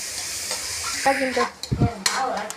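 Tomatoes stirred and sautéed in a pot of biryani base, a steady close sizzle with brief spoon scrapes and clunks against the pot partway through.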